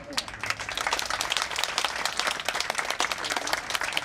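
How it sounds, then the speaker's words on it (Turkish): A concert audience at a World Elderly Day celebration claps continuously, a thick, even burst of applause with little else audible. "Alkışlarınızla."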